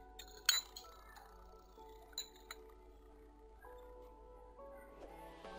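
A spoon clinks against a glass while tea liquor and syrup are stirred together for layered seven-color tea, giving a sharp ringing tap early on, a couple of lighter clinks later and soft stirring in a quiet room.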